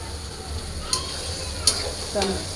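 Steady sizzling of onions frying in hot oil for birista, a constant crackling hiss close by with a few sharp clicks.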